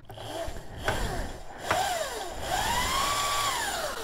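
Electric motor whine from a Razor MX650 pit bike upgraded to 72 volts as the throttle is applied, rising in pitch in short bursts and then holding a steadier high whir, fairly close and without talk.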